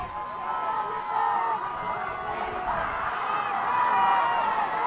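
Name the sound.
football crowd cheering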